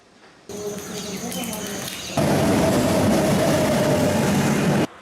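Passenger train in Sri Lanka's Southern Province running toward the Western Province, a steady loud rumble of wheels and carriage noise that swells abruptly partway through and holds until a sudden cut, with no talk.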